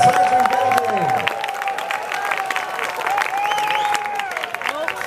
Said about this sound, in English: So give them a cheer, ladies and gentlemen